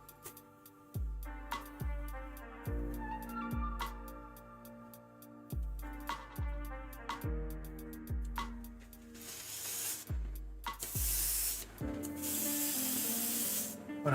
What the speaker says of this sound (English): Put a nice, solid base coat.